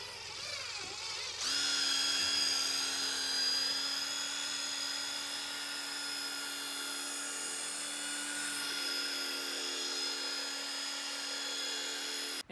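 A rotary polisher with a soft pad buffs a Subaru WRX headlight using 3M polishing compound. A high, droning motor whine kicks in after a quiet moment and holds steady, shifting pitch slightly partway through.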